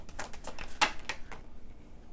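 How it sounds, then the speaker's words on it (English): Tarot cards being shuffled from a very large deck, a run of quick papery riffs and flutters with one sharper snap near the middle, close and fairly quiet, fading to near silence at the end. "let me try to shuffle these"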